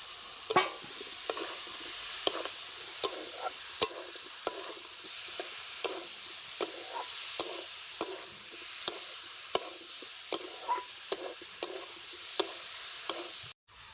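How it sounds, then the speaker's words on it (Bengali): Jackfruit and potato pieces, already fried, are stirred through spices in a hot pan, giving a steady sizzle with regular scraping spatula strokes throughout, and one sharp knock near the end. "এবার আমি দিয়ে দিব বেজে রাখা ইঁচড় আর আলু"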